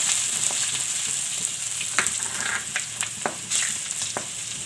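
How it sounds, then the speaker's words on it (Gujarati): Ginger-garlic paste and green chillies fry in a hot oil tempering, giving a steady loud sizzle with occasional sharp crackles and pops throughout, no voices. "આ આપણે લીલા મરચાં નાખી દઈશું અને આ વઘારી નાખી દઈશું."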